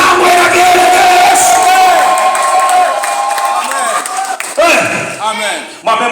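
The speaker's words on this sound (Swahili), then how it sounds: "Pigie shangwe na kelele" A church congregation shouts and cheers loudly and continuously, a dense roar of voices with whoops and cries that swells, briefly dips, then surges again near the end.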